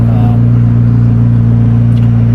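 Loud, deep steady engine rumble from a Corvette C8 Z06 with an aftermarket exhaust at low revs while pulling out, a constant droning hum heard close up.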